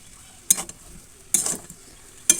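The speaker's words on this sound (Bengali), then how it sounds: "এবার চিনি দিয়ে আস্তে আস্তে নাড়াচাড়া করে" A spoon stirs a potato and eggplant curry with added sugar in a pan, giving three separate scraping strokes with short sizzling tails, close and fairly loud, with no voices.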